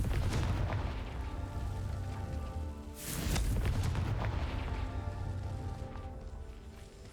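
A Confringo fire spell explodes in the video game Hogwarts Legacy: one rumbling boom blooms over a constant dense game soundscape and fades slowly.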